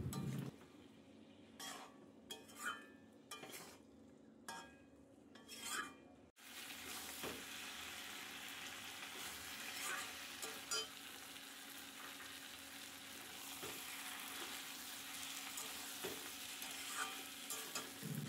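Potatoes and green jackfruit are stirred with spices in a pan, first sharp spoon scrapes and knocks against the metal, then a continuous close sizzle with occasional clinks after water goes in.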